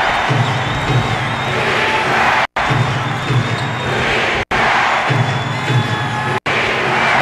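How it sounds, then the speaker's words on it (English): A packed arena crowd at a 2006 NBA Western Conference semifinal Game 7 between the Spurs and Mavericks roars in a loud, sustained wall of cheering, briefly cut by a few abrupt dropouts. "this crowd was ready to erupt"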